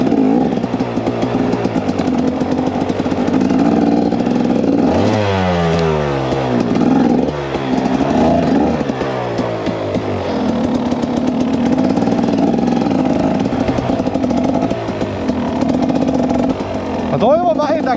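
A moped engine runs loudly nearby, revving up and down in several rising and falling sweeps over a steady idle, with people talking throughout.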